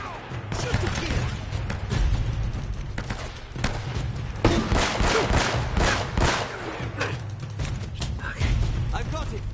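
Bursts of gunfire in Uncharted: Drake's Fortune, rapid shots and booming blasts mixed with loud game action, with voices shouting over the combat.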